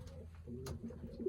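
Racing pigeons coo softly in a breeding loft, with a few low, rolling calls that repeat close by and quietly. No voices are heard.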